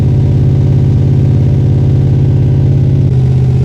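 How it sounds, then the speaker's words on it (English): An LS-swapped car engine idles loud and close through F14 mufflers, a steady deep burbling pulse that shifts slightly in tone near the end. "these F14 mufflers sound amazing"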